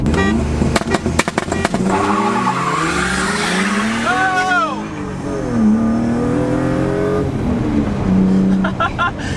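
A BMW E36 M3 races a VW Golf 1.8T with loud engine revving and long, sharp tire squeals and skids, with excited voices shouting over the cars.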